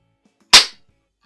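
A Norica Variatus .22 caliber bullpup air rifle with a regulator fires a single pellet, one sharp, close, loud crack that decays quickly into silence.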